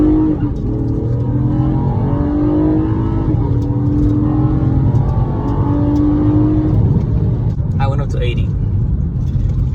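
A 9th-generation Honda Accord coupe engine pulls hard under acceleration from inside the cabin, a loud, continuous droning rumble with rising tones as it climbs through the gears. A voice cuts in briefly near the end.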